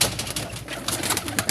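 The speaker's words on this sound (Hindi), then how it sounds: "ये एक कबूतर है" A pigeon held in someone's hands coos softly close by, partly buried under steady, rustling background noise.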